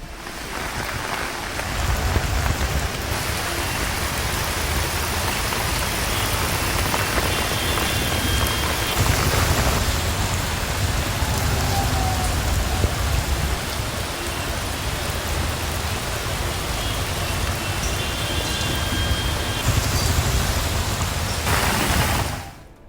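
Heavy rain pours continuously over Hyderabad city, a dense, steady hiss of drops hitting surfaces that holds at full strength throughout with no voices.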